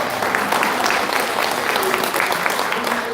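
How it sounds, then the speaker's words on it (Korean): Dense audience applause at a regional political lecture event in Korea, steady and loud for its whole short span. "박수 한번 주시고요."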